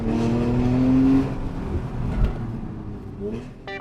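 A Porsche sports car built for track days accelerates hard, its engine rising in a strong, steady tone for about a second and then easing off. The engine stays loud and close throughout, and a voice is heard under it.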